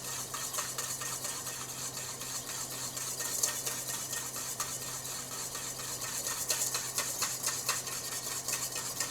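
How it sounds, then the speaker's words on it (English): Steady whisking of oil into a salad dressing base, a continuous brisk metallic scraping and stirring rhythm held at moderate loudness throughout with no talking. "once all that oil is worked into our base, we're going to add just a little bit more. And we're going to keep whisking"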